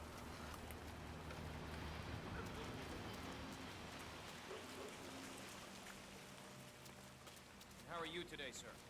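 Steady rain falls in a video game, a continuous broad hiss throughout with faint tonal music underneath and a short voiced sound near the end.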